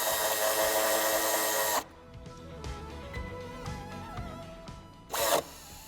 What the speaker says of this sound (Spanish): Volvemos a apretar.